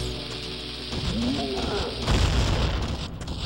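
A bomb flower blowing up in The Legend of Zelda: Ocarina of Time, a muffled boom landing midway through amid game sounds, with a voice speaking over it.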